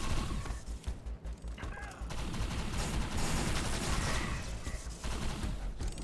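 Crossbow bolts or futuristic arrows fire in a shooter video game during a space-alien anniversary event, a loud, dense stream of rapid shots and impacts running throughout with brief dips near the start.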